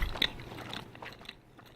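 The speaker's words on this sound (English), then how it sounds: "Now you guys get to hear my chomping and chewing noises." Close, wet chomping and chewing of food in a person's mouth, with a sharp crunchy bite near the start followed by softer squishy mastication that fades over a couple of seconds, no talking.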